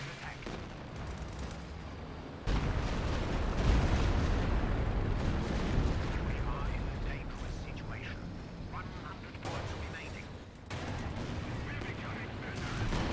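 Anti-tank gun fire in a Company of Heroes match, heavy booming shots and explosions layered in a dense, continuous battle din across the whole stretch, with a sharp jump in loudness partway through and commentators talking over it.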